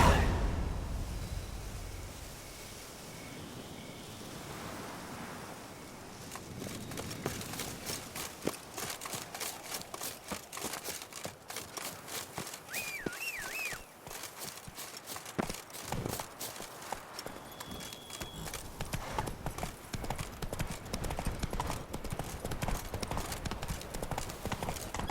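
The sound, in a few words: horse Roach galloping in video game The Witcher 3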